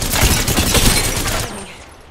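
Loud, sustained burst of gunfire in Apex Legends, rapid shots packed tightly for about a second and a half before trailing off into quieter echo.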